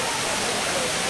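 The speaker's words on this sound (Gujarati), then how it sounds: "આ રહ્યો ધોધ" A crowded tourist waterfall roaring as a dense, steady rush of falling water, loud and continuous with no speech.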